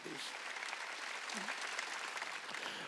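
A congregation claps continuously at a Korean church's Wednesday worship service, a dense, even patter of many hands heard a little way off, with voices calling out over it.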